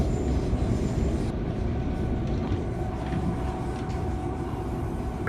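A Southern passenger train runs toward London Victoria, giving a continuous low rumble of wheels on rails with a steady rolling drone inside the carriage and faint higher squeals overhead.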